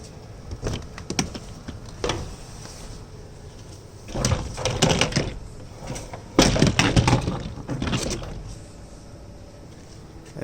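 Plastic trim piece pried off a Tesla Model S near the front trunk, heard as bursts of sharp snapping, clicking and creaking in several clusters with quiet pauses between, close by and without talk.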